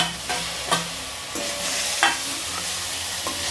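Onion and tomato sauté in a pan with a steady close sizzle, punctuated by a few scraping strokes and taps of a spatula.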